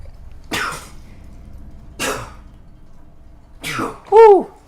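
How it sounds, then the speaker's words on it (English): A person sneezes up close: a few sharp, breathy bursts spaced about a second apart, ending in a loud, voiced sneeze, with quiet room tone in between. "I'm gonna sneeze here."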